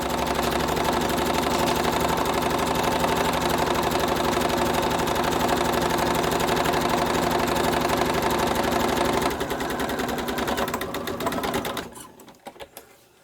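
A sewing machine runs a steady stitching line while gown pieces for a stomacher are sewn, a continuous close mechanical whir holding for about nine seconds before slowing and stopping with a few light clicks.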